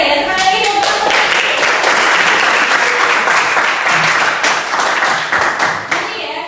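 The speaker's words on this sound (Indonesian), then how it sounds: "Sekali lagi tepuk tangan." A classroom of students clapping during an Islamic religious education lesson, loud, close hand claps in a brisk, dense burst that stays strong before tapering slightly at the end.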